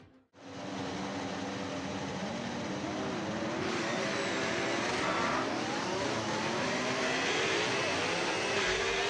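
An F1 race car engine in a video game drones steadily on the formation lap, a loud continuous buzz with a slight rise partway through as the revs lift, and no voices over it.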